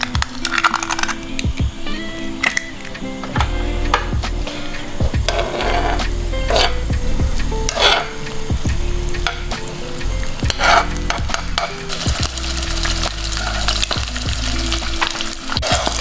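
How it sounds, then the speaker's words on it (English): An egg fries in hot crispy chilli oil in a pan for a sausage sandwich, with a steady loud sizzle and crackle throughout and occasional sharp clicks and knocks of utensils. "just cracking that egg in now"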